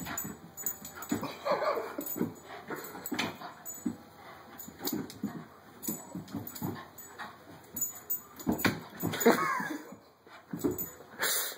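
A dog chasing a laser dot indoors: repeated high whimpers and short yips in irregular bursts, close by, with scrabbling movement between them.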